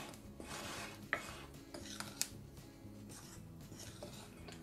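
A utensil mixes flour, baking powder and salt in a bowl for wheat tortilla dough, producing quiet scraping and stirring with a few sharp clinks against the bowl, faint and close.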